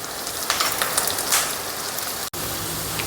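Onion, green chili and curry leaves sautéing in a pan for Kerala-style sardine curry in coconut milk, a steady close crackling sizzle that runs continuously, briefly cut out near the end.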